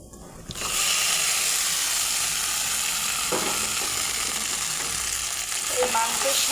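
Rice frying with cooked chicken and spices in a kadai for home-style chicken biryani: after a quiet start, a loud, steady sizzle sets in, broken by a few scraping stirs.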